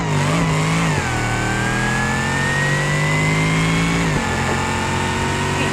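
A drag car in a video game revs hard before a mega ramp jump, engine roaring loud and steady with a rising whistling tone and a brief dip mid-rev.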